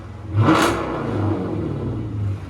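A 2015 Dodge Charger R/T with a 5.7L HEMI V8, AWD, and a dual exhaust fitted with Dynomax Race Bullet resonators, mid-muffler deleted, gives one loud close rev that swells and falls into a deep, rumbling idle, with no talking.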